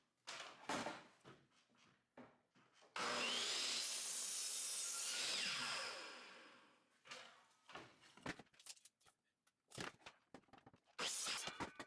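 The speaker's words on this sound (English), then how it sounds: "Cut 6 7¼ inch pieces from the 2x8," Someone cuts a 2x8 wooden board into squares. Scattered knocks and handling noises come first, then one loud, continuous sawing pass lasting about three seconds that fades out, followed by more close knocks and brief rasps.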